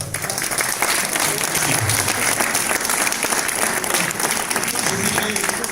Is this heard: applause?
yes